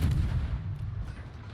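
Heavy battleship gunfire booms from the Ohio in a naval video game, aimed over an island, a loud sustained low rumble of artillery that swells and fades across the moment.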